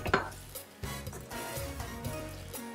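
Teriyaki sauce being stirred into a chicken stir-fry in a pan, with repeated scraping and clinking of a utensil against the pan over a faint sizzle, close and without talk.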